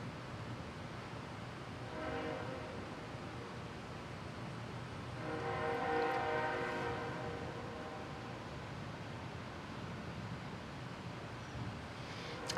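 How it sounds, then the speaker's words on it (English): Trains pass at a distance, a low rumble swelling and fading with two drawn-out horn blasts, the second louder, over steady faint background noise. "There's like trains and air compressors and automobiles and stuff"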